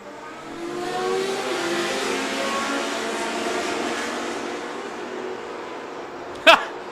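Racing engines from vintage sports-prototypes, including LMP cars, roar together at a VIR race start, a sustained mid-level drone that swells and slowly fades, ending with a brief sharp burst.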